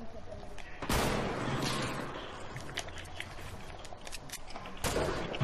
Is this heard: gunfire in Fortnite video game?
yes